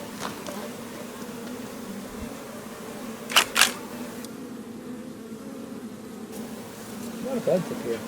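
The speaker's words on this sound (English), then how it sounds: "A lot of bugs up here." Bees buzzing around a hilltop in the Warrumbungles, a steady close insect drone that runs throughout, with two sharp clicks partway through and a brief bit of faint voice near the end.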